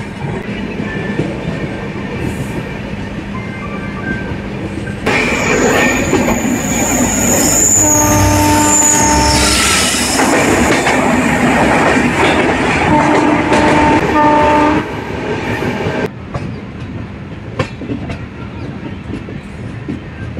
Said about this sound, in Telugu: రామారపాడు స్టేషన్ నుండి అయితే డిపార్ట్ అయిపోతుందండి మన ట్రైన్ అయితే.